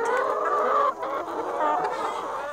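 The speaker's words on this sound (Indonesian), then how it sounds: "nih mau ngasih makan ayam ini" Chickens gathered at feeding time on a farm in Taiwan, a dense flock clucking and murmuring continuously at close range, steady and moderately loud with no voices over it.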